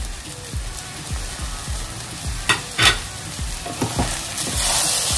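Cooked soya filling stirred in a pan with chopped fresh coriander and mint leaves, a steady rhythm of spoon scrapes over a soft sizzle, loud and close with no voices.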